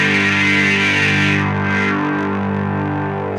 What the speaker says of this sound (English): It sounds good, but gets really juicy when you start to turn up the resonance filter on it.